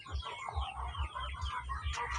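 Pet chickens let out of their coop, clucking in a rapid, steady rhythm close by, with several birds overlapping and no talk.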